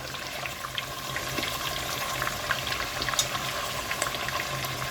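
Chicken pieces for birria tacos cooking in a pan, giving a steady, even sizzle and crackle close by with scattered small pops and no voices.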